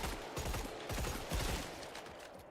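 Rapid gunfire from hip firing a weapon in Killing Floor 3, a dense, loud stream of overlapping shots and bursts with no pauses.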